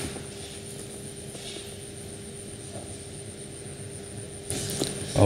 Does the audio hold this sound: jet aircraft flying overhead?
yes